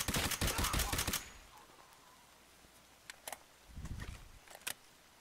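A suppressed rifle in Escape From Tarkov fires a quick burst of muffled shots, then goes quiet, followed by a few scattered single thuds and clicks at close range.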